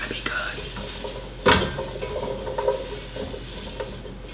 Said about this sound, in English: we're gonna come with our carrots and we're just gonna mix that up with our onions and sausages